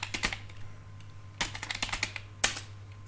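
Typing on a computer keyboard while entering data in MS Excel: quick bursts of crisp key clicks in three short clusters, close and fairly quiet, with a low steady hum beneath and no talk.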